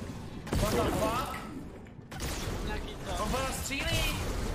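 Bursts of video-game gunfire aimed at the players, loud sharp cracks and clattering shots in two clusters with a brief lull between, mixed with excited shouting.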